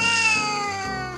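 A small kitten living with its elderly owner meows indoors, one drawn-out tonal meow whose pitch slides down before a brief second note, close and fairly loud with no talking.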